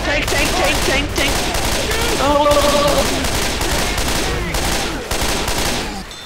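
Gunfire from the Left 4 Dead 2 video game crackles in dense, rapid bursts with a few short pauses, close and loud, and a voice is heard faintly beneath it.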